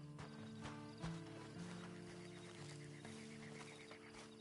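Slow clip-clop of horse hooves walking at a steady pace in Red Dead Redemption 2 Online, fairly close, over a low background hum.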